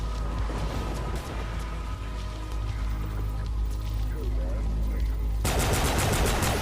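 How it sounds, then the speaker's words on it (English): Pistol gunfire in a futuristic video game: rapid sharp shots crackle repeatedly over an ongoing rumbling game soundtrack, with a brighter burst of fire near the end. "That pistol can shoot from real far away."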